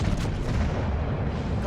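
Secondary guns of the battleship Prinz Rupprecht firing in World of Warships, a rumbling, booming barrage of muffled blasts that stays dense and heavy throughout.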